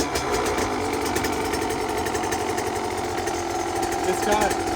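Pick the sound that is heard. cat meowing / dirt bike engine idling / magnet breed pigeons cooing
dirt bike engine idling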